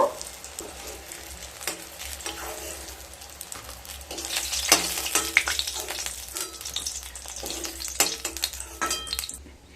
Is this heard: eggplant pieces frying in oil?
yes